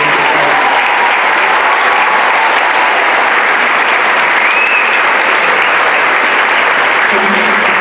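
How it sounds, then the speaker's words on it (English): High school graduation crowd at West Mifflin Area High School gives the class of 2018 a sustained round of applause, loud, dense and unbroken clapping filling the whole stretch. "Let's give these graduates a round of applause."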